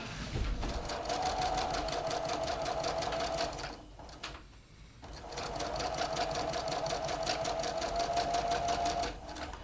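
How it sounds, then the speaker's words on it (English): A sewing machine stitches the first pass of a French seam at a scant quarter inch, running in a steady, fast rhythmic whir, pausing briefly in the middle, then running again; close and loud with no talk. "I'm going to stitch my first seam."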